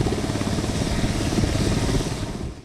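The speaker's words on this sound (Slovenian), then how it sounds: "Na lokacijo jih je pomagal dostavljati tudi helikopter slovenske vojske." Slovenian army helicopter ferrying concrete blocks to shore up a river embankment during record flooding of the Mura, a loud steady rotor and engine roar that fills the whole stretch, then tails off at the end.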